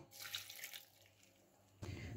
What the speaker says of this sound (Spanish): Y como veis, medio vaso de agua.